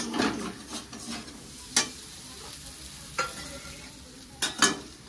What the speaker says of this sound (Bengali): ফুলকপি কষাচ্ছি